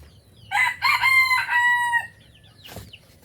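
A rooster crossbred from a labuyo junglefowl and a native chicken gives one loud, close crow with a strained, stretched-out call, followed by a short rustle.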